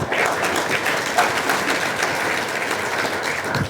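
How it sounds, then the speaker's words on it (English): A banquet crowd at an annual chamber awards event applauds the Beautification Award winners, with dense, steady clapping that fills the room at a constant level from start to finish. "one more round of applause for all of the 2023 Beautification Award winners."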